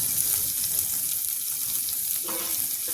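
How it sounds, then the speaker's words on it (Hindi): Onions sizzle in oil in a pan while a potato and eggplant curry is being cooked, a steady close frying hiss throughout with a faint clink near the end. "अब देखिए जब तक कि ये मेरा प्याज हल्का सा भून रहा है"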